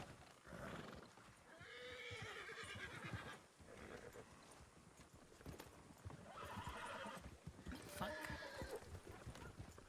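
Horse sounds in the WildRP Red Dead roleplay game: several clear neighs and whinnies over steady clip-clopping hooves, fairly close, with game ambience underneath.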